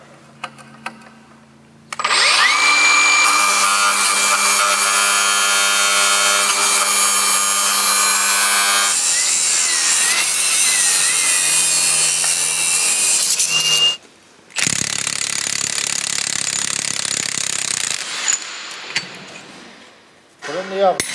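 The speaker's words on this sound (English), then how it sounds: "we got to try to grind that out to push this out" An angle grinder cuts into the weld on a broken trailer hitch, a loud sustained whine with shifting pitch, pausing briefly before resuming.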